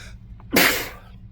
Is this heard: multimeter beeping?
no